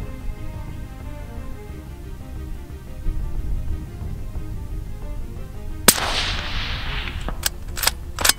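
A rifle fires at a target about 300 yards off, one sharp loud crack near the end of quiet outdoor ambience, followed by a rolling echo and a few fainter snaps.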